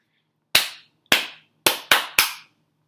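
Five crisp handclaps sound near and isolated against silence, the first two spaced apart and the final three quicker together.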